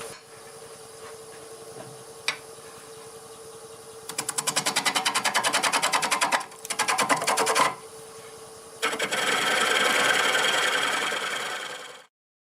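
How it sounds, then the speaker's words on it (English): Sweet gum wood spins on a lathe at 620 rpm as a round 5/8-inch carbide tool cuts a rugged bowl, giving a steady motor hum broken by bursts of close, rattling, chattering cuts. "Using a round 5/8 carbide here"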